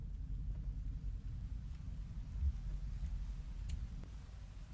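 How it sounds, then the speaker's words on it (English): Rain and thunder in the video game Rain World: a low, continuous rumble of thunder rolls under a soft wash of rain that stays steady from start to finish. "Oh, it's raining."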